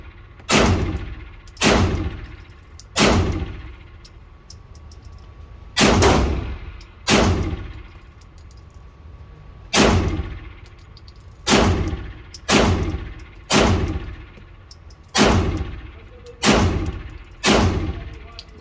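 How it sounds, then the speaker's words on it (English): Gunshots at a shooting range with one-handed pistol fire on steel targets, a dozen loud close reports spaced a second or two apart, each followed by a ringing metallic ping. "I'm gonna shoot one-handed."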